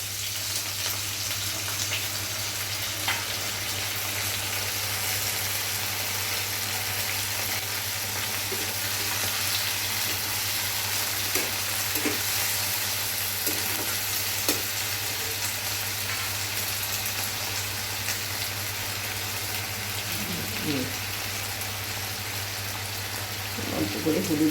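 Fried potatoes and cauliflower sizzle in a pan with a steady, broad frying hiss, occasional stirring clinks and scrapes, and a low constant hum underneath.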